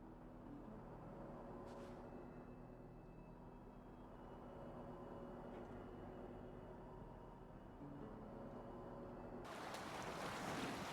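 Sailing ship cutting through ocean waves in Assassin's Creed Valhalla, off Norway's Rygjafylke coast: steady surf and wind rush beneath a faint sustained hum, with a sudden louder wash of spray near the end.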